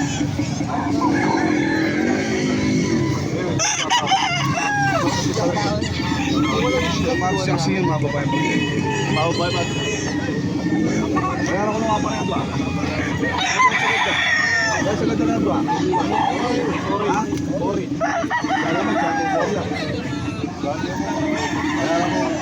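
Gamecock roosters crow repeatedly at a busy fighting-cock market in Angeles City, with scattered clucks and a steady crowd babble and talk running underneath throughout.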